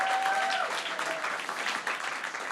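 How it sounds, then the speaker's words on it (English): An audience at a business contest gives steady, close, dense applause for the competing players, briefly overlaid by a faint whistle-like tone near the start. "a round of applause to every player that we had today"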